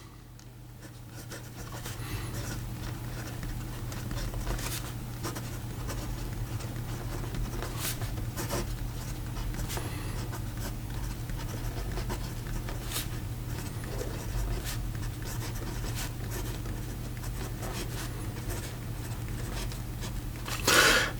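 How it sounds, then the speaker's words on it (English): Karas Pen Co Decograph fountain pen writing in black ink on paper, faint scratchy strokes in short irregular bursts over quiet room hiss, close and with no talking. "So here we go with the rest of the writing sample."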